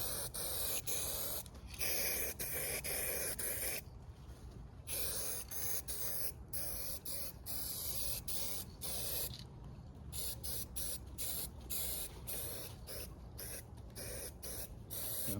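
Spray can painting 1978 Datsun 280Z tail light bezels, a series of short and longer hissing bursts with brief pauses between passes, close and fairly quiet with no talk.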